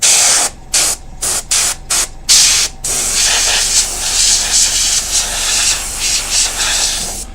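Aerosol spray paint hisses in short repeated bursts onto a miniature model, about seven quick close puffs, then a longer steady spray with slight fluctuations continues to the end.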